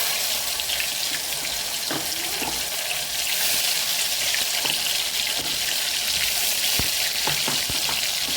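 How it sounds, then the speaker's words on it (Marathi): Tomatoes sautéing in a hot pan with cumin and mustard seeds for matki bhaji give a steady, loud, close sizzle with occasional soft stirring clicks, and no talk. "आपण टमाटे छान परतून द्यायचे आहेत"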